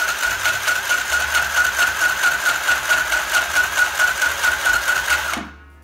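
A RYOBI 18V battery-powered sewing machine runs with a fast, even needle clatter and whir, close and steady for several seconds before stopping abruptly.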